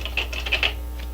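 Quick run of clacking keystrokes on the keyboard of a vintage Commodore SuperPET SP9000 computer, several close, crisp taps over a low steady hum.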